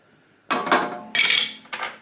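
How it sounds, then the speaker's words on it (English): Spanish rice ingredients being stirred in a pan, with three short bursts of metal utensil scraping and clinking against the cookware, close and clear with no talk. "I'm going to just stir this all together."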